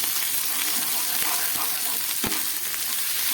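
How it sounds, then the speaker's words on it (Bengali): Panch phoron spices and turmeric frying in hot oil for a light fish curry, a dense, close, steady sizzle with a few faint stirring taps. "পাঁচফোড়ন দিয়ে একটু ভেজে নিচ্ছি। এবার দিয়ে দিচ্ছি একটু হলুদ"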